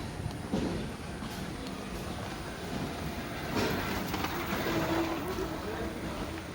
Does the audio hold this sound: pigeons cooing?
no